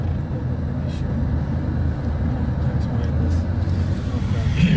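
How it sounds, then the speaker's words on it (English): Convoy of armoured vehicles driving through Mogadishu, a steady rumbling road and engine noise heard from inside a moving truck, continuous and fairly loud, with a voice talking over it. "we're in the middle of a convoy of these armoured vehicles now"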